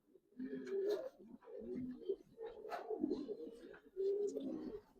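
Giribaz coloring pigeons on a pigeon farm, several close, soft throaty coos repeating in rolling phrases, with brief wing or movement noises in between.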